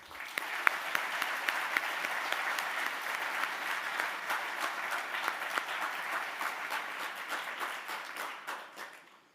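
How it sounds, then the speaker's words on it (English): An audience at a university engineering hard hat ceremony gives sustained applause, a dense hall-wide patter with a few sharp nearby claps standing out, steady for several seconds before tapering off at the end. "just one more round of applause for them"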